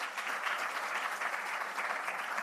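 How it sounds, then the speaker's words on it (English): Sustained applause from a symposium audience for presenters at an emerging researchers event, an even, steady wash of many hands clapping at moderate level with no speech. "Let's give our presenters one more round of applause."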